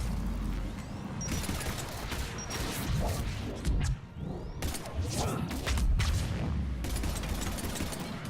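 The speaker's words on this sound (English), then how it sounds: "The explosion from one getting picked up will wound the other one." Explosions rumble through a Mass Effect 3 firefight, a dense run of booms and gunfire bursts with whooshing debris, loud and continuous over several seconds.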